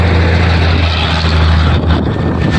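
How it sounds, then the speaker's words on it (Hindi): A vehicle rushes past on a road in Sindh, Pakistan, its loud broadband roar and wind-like wash dominating briefly before easing slightly near the end. "ये गाड़ी गुजरने दे शोर आएगा इसका"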